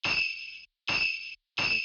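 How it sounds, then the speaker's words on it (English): A bright bell sample from a Memphis phonk beat rings three times at an even pace, each hit sharp and metallic with a short sustained shimmer that cuts off cleanly, isolated and close. "The bell sounding like this."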